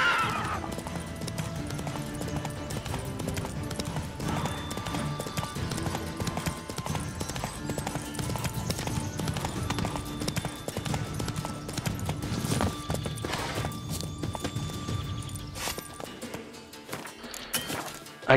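In The Witcher 3, a horse's hooves clip-clop at a gallop through the whole stretch, steady and fairly close, with occasional snorts or whinnies and game clatter over it.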